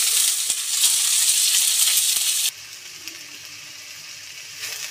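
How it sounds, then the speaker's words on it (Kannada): Chopped onion sizzles and fries in hot oil with mustard seeds and curry leaves: a bright, steady hiss that drops to a softer sizzle halfway through, with a few faint clicks of stirring. "ಈಗ ಈರುಳ್ಳಿ ಹಾಕಿ ಫ್ರೈ ಮಾಡ್ಕೋಬೇಕು."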